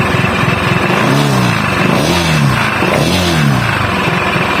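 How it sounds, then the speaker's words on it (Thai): Honda PCX scooter engine with a noisy rear clutch, revved several times in steady rising and falling surges, close and loud, with no talking. "เร่งเครื่องหน่อย"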